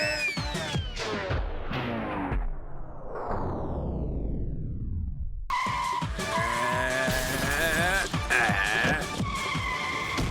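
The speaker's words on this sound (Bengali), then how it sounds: "গাড়ির আওয়াজ তো পেয়েছিলাম।" A car in an animated film skids with long, sweeping tire squeals that fall in pitch. A loud, busy burst of engine and vehicle noise follows midway.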